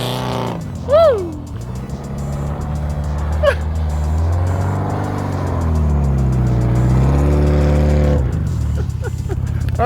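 A Subaru Outback drifts on ice with a loud, sustained engine drone that rises and falls as it revs. A voice whoops briefly near the start, and the car stays close.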